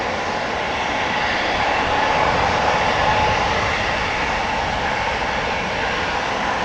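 Airliner jet engines roar at Amsterdam Schiphol Airport as a departing jet passes. The rumble is loud and continuous, swelling slightly toward the middle and holding steady throughout.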